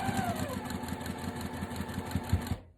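A sewing machine runs steadily through a cotton quilt seam, its rapid stitching hum continuous and close for nearly three seconds before stopping abruptly, with faint background noise underneath.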